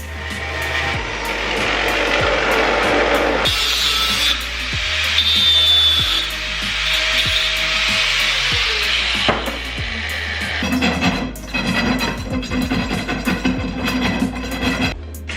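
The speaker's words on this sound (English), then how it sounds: "we'll cut up a bit of that 3/4 inch round" Loud, continuous power-tool cutting through 3/4 inch round steel bar while fabricating a fuel tank mount, a grinding whine that holds steady and then shifts pitch, with rattling clatter near the end.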